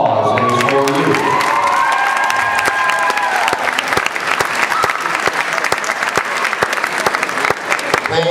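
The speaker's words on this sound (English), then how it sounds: "think about all this applause and it's for you" Audience at a beauty college special event applauds after a stage hypnosis show, sharp claps and some cheering and shouts rising over fading music at the start, then sustained clapping to the end.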